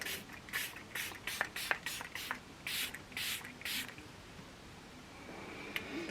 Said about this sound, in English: Okay, one last spritz. But avoiding my eyes now.